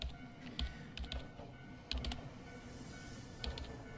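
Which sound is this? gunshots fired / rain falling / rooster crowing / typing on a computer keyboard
typing on a computer keyboard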